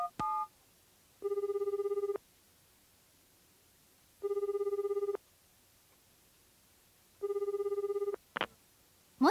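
A telephone rings back on an outgoing call, three even, moderately loud double-bell bursts separated by silent pauses, followed by a click as the line picks up; no one speaks.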